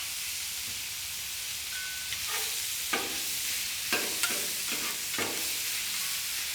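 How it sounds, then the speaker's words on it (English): Pastrami being shredded and broken apart with a sharp-ended scraper on a hot Blackstone griddle: a steady close sizzle broken by several short scraping strokes in the second half. "I'm going to use the scraper here, which has a sharp end to it. And we're going to help to use this to sort of break everything apart"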